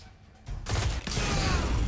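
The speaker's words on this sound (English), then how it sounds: "Holy shit, that's a big explosion." A sudden loud explosion in Destiny 2 bursts in and roars on as a sustained, dense rumble with crackling debris, loud and close.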